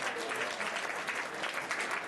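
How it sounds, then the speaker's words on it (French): Steady audience applause in a hall for a competitor about to start the final round of a European competition, dense and even throughout. "vos applaudissements pour lui souhaiter bonne chance avec la course finale"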